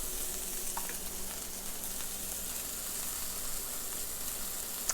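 Smashed burger patties sizzle steadily on a hot cooking surface, a continuous loud crackle with faint scraping clicks and no voices.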